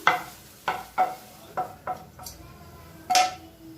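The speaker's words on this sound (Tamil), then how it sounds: "இப்போ நல்லா கலக்கி விட்டுக்கலாம்" Spoon stirs millet batter mixed with sautéed onions in a metal bowl, a series of about six sharp clinks and scrapes spaced irregularly, close and fairly quiet.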